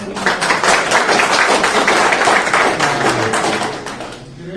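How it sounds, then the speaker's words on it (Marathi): An audience at a Marathi lecture on the battle of Pavankhind claps loudly, and the dense, rapid applause holds strong for about four seconds before thinning out. "जोरदार टाळ्या"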